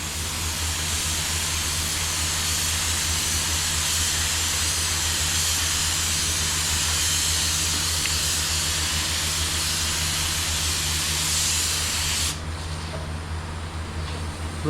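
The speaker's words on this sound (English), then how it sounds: "So we're ready to start spraying. So I have our base color in the gun." A paint spray gun set to low pressure blasts base coat on a small spot repair of a tri-coat pearl car finish, a loud continuous airy hiss that cuts off sharply near the end.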